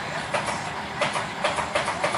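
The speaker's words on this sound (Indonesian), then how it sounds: "Nah, kalau gini kan lokomotifnya bisa lewat." A rail trolley locomotive rolls along old, long-disused lori tracks with a regular clickety-clack rhythm, wheels thumping over joints at a steady pace, fairly close.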